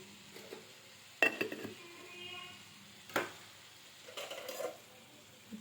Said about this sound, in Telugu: ఇప్పుడు అంతా మిక్స్ అయ్యేలాగా కలుపుకున్నానండి